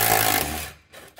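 An impact gun fitted with a 3-inch extension hammers a driveshaft bolt on a 2006 Subaru B9 Tribeca in a loud, close burst that cuts off after under a second.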